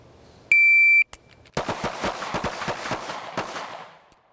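Pistol fire on a shooting range during a standards drill: a shot timer's beep, then a rapid string of sharp, loud gunshots from several shooters firing together, ringing out over a few seconds.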